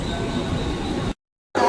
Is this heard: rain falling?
no